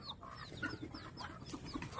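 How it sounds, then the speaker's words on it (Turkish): Soft clucking and chattering from ducks close by, repeated in short bursts over a low background murmur, in Thung Wa, Thailand. "Bakın da burada bir değişik bir ördek var."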